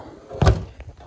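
The plastic front cover of a Daikin mini split indoor unit slides off its mounting, giving a single short thunking scrape followed by a faint softer knock.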